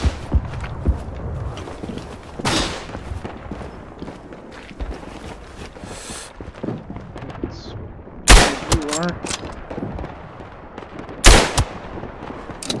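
Gunfire in the World War I shooter game Tannenberg, scattered bursts and sharp single shots, with two loud close cracks standing out over a busy backdrop of distant firing and movement, plus a brief voice.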